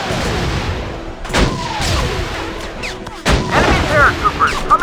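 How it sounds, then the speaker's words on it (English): Rockets fire in a video game, giving loud booming blasts and whooshes layered over continuous battle noise, with a heavy impact near the end followed by scattered explosions. "Rockets ready!"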